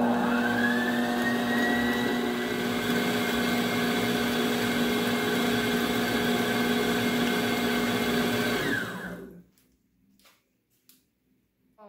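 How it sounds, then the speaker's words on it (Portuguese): Stand mixer fitted with a dough hook kneading milk bread dough, a loud steady motor whir with a strong hum running close and alone for about nine seconds, then cutting off into near silence. "põe devagar na batedeira, porque esse gancho faz a maior sujeirada"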